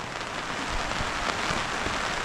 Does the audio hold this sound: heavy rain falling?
yes